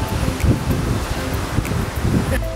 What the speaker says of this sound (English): It's a little windy. The wind literally just blew me over.